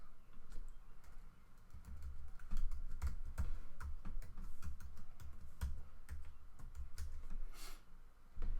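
Someone types on a computer keyboard at close range, producing a steady stream of soft, irregular key clicks over a low background hum.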